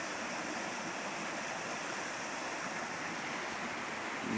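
Water pours over the weir at Horstead Mill into the pool below, a steady, dense rushing roar heard alone throughout.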